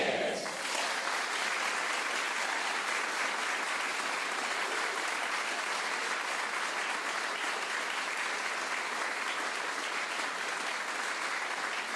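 A studio audience at a WoodSongs Kids live music broadcast breaks into loud, steady applause that starts abruptly and keeps up for the full stretch as a dense wash of clapping, with faint voices underneath.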